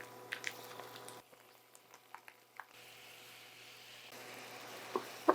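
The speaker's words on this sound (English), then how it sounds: "We're going to add 2 pounds of ground beef to our peppers, onions, and garlic while they're cooking down." Two pounds of ground beef browning in a pan with peppers, onions and garlic for lasagna. Faint bubbling and wet squishing come with scattered soft pops and scraping taps, fairly quiet and without voices.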